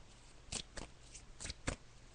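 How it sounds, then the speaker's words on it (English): A deck of cards is shuffled during a psychic reading, giving a handful of short crisp riffling bursts spaced irregularly over a quiet room background, moderately close and fairly soft. "So I'm just shuffling the cards now, Michelle"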